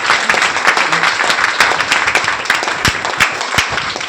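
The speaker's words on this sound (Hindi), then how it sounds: "तो एक बार जोरदार ताली बजाइए सब लोग।" An audience at a health talk breaks into loud applause, many hands clapping at once in a dense, steady patter that lasts throughout.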